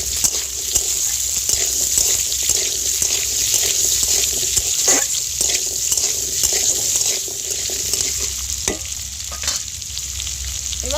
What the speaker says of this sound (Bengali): এবার আলুটা দিয়ে দেব একটু ভেজে নেবো